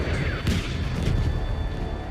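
Bomb explosions and artillery-like booms in the Battlefield V multiplayer game, a dense, loud rumbling blast with a sharp burst near the half-second mark over continuous battle noise.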